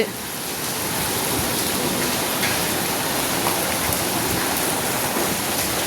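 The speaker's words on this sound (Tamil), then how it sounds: "நல்லா மழை பெய்யுது எப்படி மழை பெய்யுதுன்னு பாருங்கள்" Heavy rain pours down outdoors near a school, a dense, steady hiss that stays even and loud from start to finish with no voices over it.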